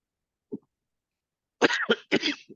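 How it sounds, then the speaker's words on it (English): A short, faint cough, then after a pause two loud, harsh coughs close together and a brief final catch of breath, with no talking. "Your listeners are just going to hear me coughing."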